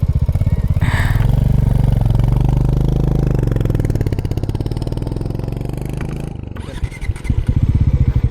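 A motorcycle rides on a road trip from Mumbai toward Raigad fort, its engine loud and close with a steady throbbing drone that dips and shifts near the end as the throttle changes.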